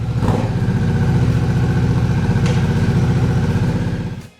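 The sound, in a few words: Harley-Davidson Nightster Special motorcycle engine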